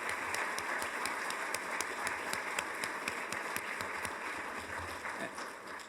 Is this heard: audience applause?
yes